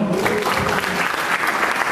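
A hall audience at a university public lecture at UKI breaks into dense, loud, continuous applause, many hands clapping at once with a steady wash of crowd noise throughout.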